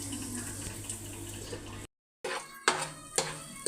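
A lid clatters onto a metal cooking pot while aloo masala curry fries, a short break of silence followed by two sharp metallic clinks, close and clear, over a low kitchen hum.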